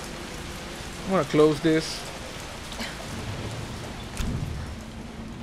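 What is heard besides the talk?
heavy rain in the video game Resident Evil 3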